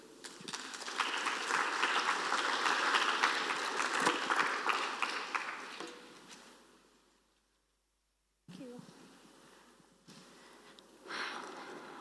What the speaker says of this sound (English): Another clap offering for that update.